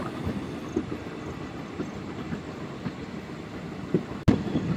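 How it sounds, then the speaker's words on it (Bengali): Express train rumbling into platform 2 at Panagarh station at night, a steady low rolling rumble with soft rhythmic wheel clicks, one sharp knock near the end, heard from inside a general coach. "তো সেই সঙ্গে বন্ধুরা আমাদের ট্রেন কিন্তু এসে ঢুকলো পানাগড় স্টেশনে 2 নম্বর প্ল্যাটফর্মে।"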